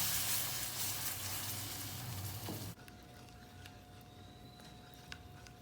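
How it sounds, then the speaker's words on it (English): Milk poured into a hot roux with continuous stirring, a broad close sizzle that cuts abruptly to a quieter, steady hiss with faint clinks. "I will be adding little bit of milk and keep stirring continuously."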